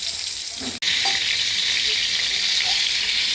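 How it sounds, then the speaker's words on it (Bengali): Pointed gourd pieces frying in hot oil in a wok give a steady, loud, close sizzle that runs throughout, broken by one sharp click or knock near the start. "এবার আমি পটলগুলো ছেড়ে দিচ্ছি, একটু ভেজে তুলে নেব"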